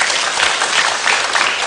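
Dense, steady applause from a studio audience during a talk show, loud and continuous throughout with no gaps.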